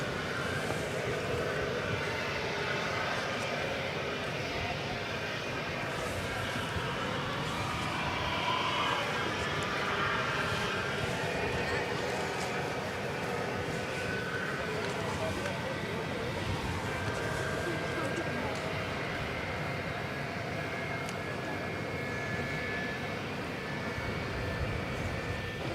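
An MD-11 airliner at DFW Airport gives a steady, broad roar of jet engines that holds at an even loudness throughout, with no voices heard.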